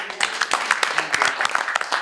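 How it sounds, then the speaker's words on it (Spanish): An audience at a lecture in the Pensar La Argentina talk series breaks into applause, with dense, close clapping pulsing steadily throughout. "le decimos gracias con un aplauso."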